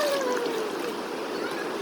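Creek water after a flood flows steadily and fairly close, a continuous broadband rush with light trickling and splashing, no voices.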